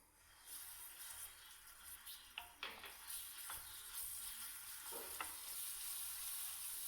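Two cloves of garlic fry in a little oil in a pan, a steady bright sizzle that carries on alone, with soft scraping and stirring sounds rising through it.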